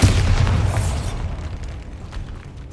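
Bombarda spell explosion in the video game Hogwarts Legacy, a single loud booming blast at the start with a low rumbling tail that fades over a couple of seconds.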